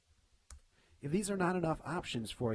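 A single sharp computer mouse click sounds in a quiet room during a Photoshop tutorial, and moments later a voice begins talking steadily.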